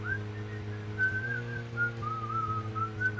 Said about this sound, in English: Oh god, okay, you're whistling again.